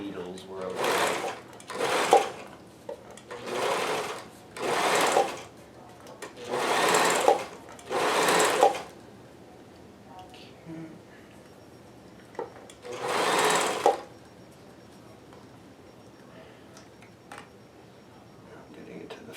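An overlocker serging sock fabric runs in a string of short bursts, about six quick runs in a row, then a pause with small handling clicks before one more burst, loud and close.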